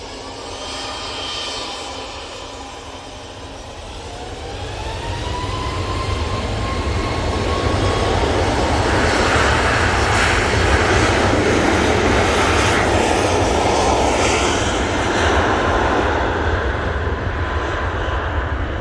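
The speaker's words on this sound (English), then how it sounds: "as you can probably hear, there's a plane on a taxi" A Boeing 737 MAX 8 with LEAP-1B engines taxis at Manchester Airport, its loud, steady engine roar with a whining tone swelling after a few seconds and holding close and constant.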